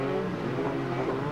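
Touring race cars at Lakeside Raceway in the 1990 Australian Touring Car Championship, engines holding a steady, dense roar on the starting grid before the start, loud and continuous with no talk.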